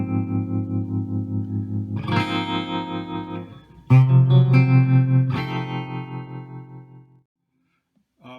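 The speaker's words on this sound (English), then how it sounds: "go to the brown face, had a nice tremolo on it." Electric guitar played through a Fractal AX8 brown face amp model with tremolo, sustained chords pulsing in a wobbling rhythm, loud and close, a few strums ringing out before fading to silence.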